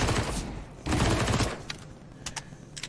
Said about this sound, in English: Deagle versus MP9, and Fixin wins that one.